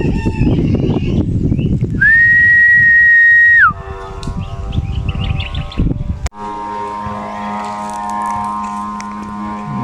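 A plastic-bottle noisemaker on a kite gives a loud, steady whistling hum holding one pitch for a couple of seconds, then dropping away, with wind buffeting and rustling outdoors throughout.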